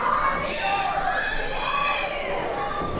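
A wrestling show crowd cheers and shouts, a loud steady mass of voices with whoops rising over the din, filling the whole moment without a break.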